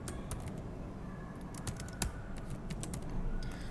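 Steady close-up clacking of a computer keyboard as a file name is typed, quick irregular keystrokes continuing throughout at low level.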